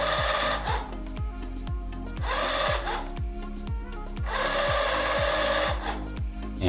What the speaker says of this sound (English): if I take my hand away, the soap dispenser should automatically stop